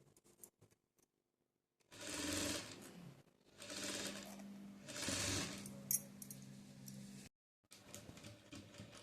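A sewing machine stitches decorative hangings onto a dupatta, running in three long bursts with short pauses between, fairly loud and close, with no talk over it.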